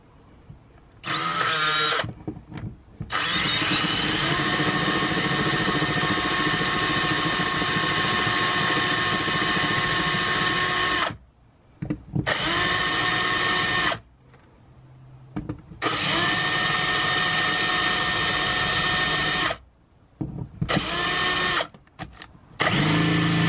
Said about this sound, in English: drill those rivets out